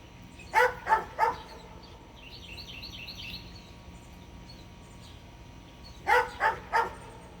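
A dog barks three times in quick succession, pauses, then barks three more times, somewhat distant over a steady outdoor hum with faint bird chirps.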